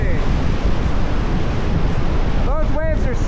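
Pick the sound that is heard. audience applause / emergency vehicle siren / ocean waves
ocean waves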